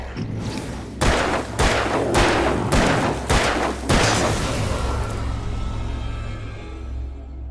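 Gunshots from the Alan Wake video game: five or six loud, sharp reports spaced roughly half a second apart, each ringing out into a reverberant tail, then a low rumbling ambience that fades.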